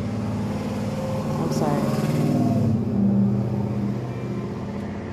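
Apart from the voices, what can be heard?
loud trucks driving past outside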